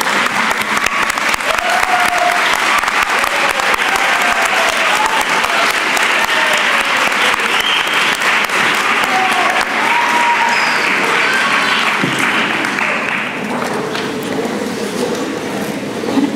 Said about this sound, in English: Graduates, please stand and give your parents, grandparents, brothers and sisters, aunts, uncles, spouses, children, and other loved ones a big round of applause.